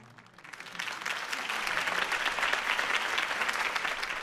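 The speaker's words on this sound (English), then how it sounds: "could have heard that applause" A video game crowd at a political campaign rally bursts into applause, with steady clapping that swells quickly and holds at a dense, even level.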